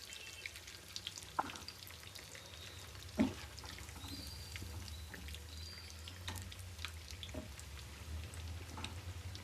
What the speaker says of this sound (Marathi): आपल्याला मस्त गोल्डन होतील तोपर्यंत त्यांना छान असे तळून घ्यायचे. तेल तापलेलं असतं ना की छान पटकन तळले जातात